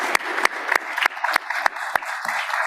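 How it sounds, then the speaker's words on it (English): Sparse audience clapping at a law symposium, a handful of distinct claps at an even rhythm over a soft bed of scattered hands, moderately close and fairly quiet. "Let's give him a big round of applause."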